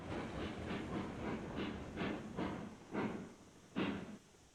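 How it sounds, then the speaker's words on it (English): A steam locomotive runs in the Railroads Online video game, chuffing in a rhythmic series of about eight soft exhaust bursts over a constant hiss, fairly quiet and slowing slightly toward the end. "I think I'm gonna come to a stop and start the noise of that train over again"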